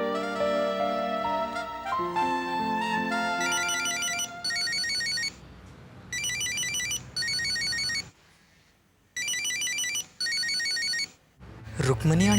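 A telephone ringtone trills in repeated bursts at moderate loudness over a musical background score in a Hindi TV drama scene, with a brief pause before the rings resume.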